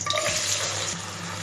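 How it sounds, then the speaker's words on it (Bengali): Chopped onions hit hot oil with whole spices in a pan and sizzle steadily, a brief, close, continuous frying hiss with no talking. "নাড়তে নাড়তে সুন্দর একটা স্মেল চলে আসলে দিয়ে নিচ্ছি 2 কাপ পরিমাণে পেঁয়াজ কুচি"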